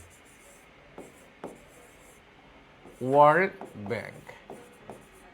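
Pen or chalk strokes on a notebook or board during a general-knowledge class, a few soft scratchy taps close by, with a short stretch of a teacher's voice partway through.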